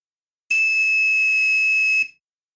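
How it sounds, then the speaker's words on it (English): Single shrill, steady 2600 Hz tone blown on a bosun's whistle, a piercing pure pitch held loud and close for about a second and a half before stopping abruptly. "blowing a 2600 Hz tone sounds something like this"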